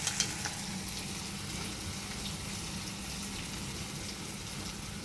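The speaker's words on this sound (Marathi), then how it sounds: "टमॅटो पण छान तळलेला आहे" Tomato fries in a pan for a spicy drumstick vegetable curry, a steady close hiss and crackling sizzle that runs unbroken throughout, with no voices.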